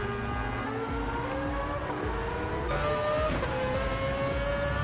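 Gr.3 race cars lapping Deep Forest Raceway in Gran Turismo 7: a loud, continuous engine roar with rising and falling revs as gears change, other cars close by, no talk.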